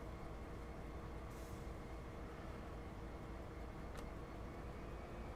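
Locomotive rumbling along in Train Sim World 2 on the Sand Patch Grade, a steady low drone with a faint hiss and a brief sharp click, no talking over it.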